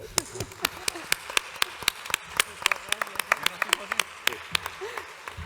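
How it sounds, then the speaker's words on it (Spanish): Audience applause for speakers at a national consumer congress: scattered, fairly sparse individual claps with a steady rhythm, moderately loud, with faint voices underneath. "Muchísimas gracias a ambos y un aplauso para vosotros."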